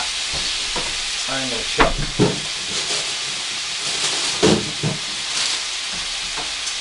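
Pork stir fry sizzling in a hot pan as it is stirred, a steady loud hiss with scraping bursts from the stirring and a person talking over it.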